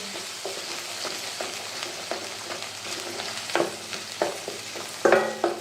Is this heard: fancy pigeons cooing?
no